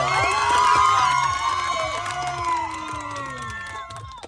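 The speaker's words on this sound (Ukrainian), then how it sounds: "Оплески для Аліни." An outdoor crowd at a tourist camp's season opening cheers and shouts, with high whoops and calls over a rhythmic music beat, loud at first then easing slightly.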